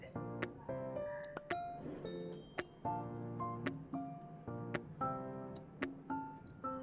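A spoon clinks against a bowl while oregano and chili flakes are mixed into batter, bright repeated taps and scrapes in an irregular rhythm, fairly quiet and close.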